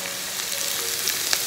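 Onions, fennel seeds and sliced ginger sauteing in a pan for Kottayam-style beef fry give off a steady, close hiss of frying with faint stirring scrapes, no voices.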